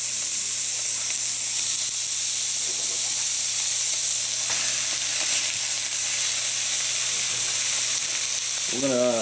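Hamburger patties searing in a preheated cast iron skillet on a stove set to 6, giving a loud, continuous sizzle and hiss that holds steady throughout with no talking.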